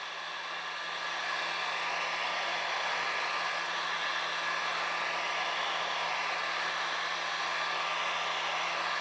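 A heat gun or hot-air blower runs steadily for the whole stretch, a loud, even whoosh used to soften hardline PC watercooling tubing for bending, with no talk over it.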